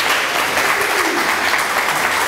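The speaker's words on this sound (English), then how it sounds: "Yeah, you can applaud for that," A room full of listeners applauding, a thick continuous patter of many clapping hands, loud and even throughout the short stretch with no voices standing out.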